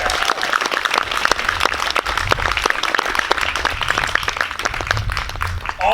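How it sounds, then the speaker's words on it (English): A middle school assembly audience at Hillcrest applauds together in a dense, sustained burst of clapping that fills the hall, with a few voices mixed in. "Let you guys give yourselves a round of applause first for that"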